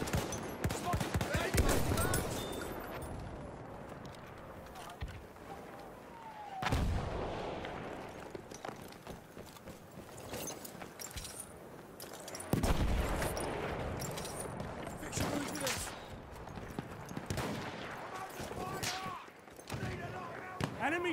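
Battlefield 1 battle sounds with bursts of gunfire and heavy impacts come in dense waves, loud and close, while voices call out over the din.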